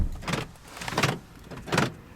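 Door lock actuator on a 2000 BMW 323i E46 running three times, each a short, close mechanical whir-and-thunk burst spaced about three quarters of a second apart, with no talking.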